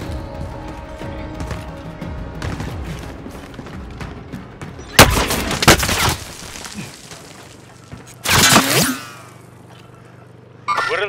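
Gunfire and explosive blasts from Call of Duty Warzone arrive in two loud bursts over a rumbling battlefield background, followed by a sharp final hit, with no talk.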